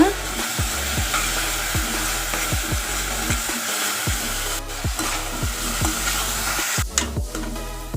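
Curry leaves and ginger-garlic paste fry in a hot pan for mushroom gravy, a continuous loud sizzle broken by repeated rhythmic scraping of a spoon stirring, with a sharper crackle near the end.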